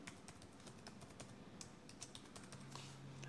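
Password typed on a computer keyboard, a quick irregular run of light clicks and taps, faint and close, with no talk over it.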